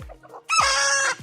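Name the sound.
chicken clucking on a Kroiler poultry farm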